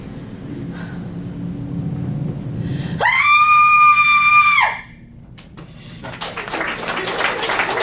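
A woman lets out a loud, sustained, high-pitched scream lasting under two seconds in an old horror film, rising sharply out of murmured background sound and cutting off abruptly.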